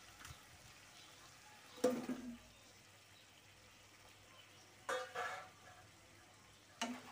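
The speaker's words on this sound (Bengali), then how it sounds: "মশলার সাথে সজনের ডাঁটা ভালোভাবে মিক্স করে নেব।" Drumstick pieces stirred into fried spice paste in a pan for a catla fish curry: three short scraping, sizzling bursts of stirring, spaced seconds apart over a quiet kitchen background.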